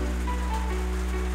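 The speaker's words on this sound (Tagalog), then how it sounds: "medyo masamang panahon, ulan." Rain falls during bad weather, a soft continuous patter heard close up beneath a loud, steady low electrical hum that dominates throughout.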